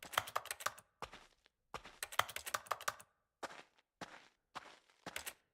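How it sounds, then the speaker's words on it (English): Keyboard typing sound effects from the video game The Stanley Parable come in quick bursts of clattering keystrokes separated by short pauses, close and clear with no talk. "I like that every time I hit X, it's just typing sounds."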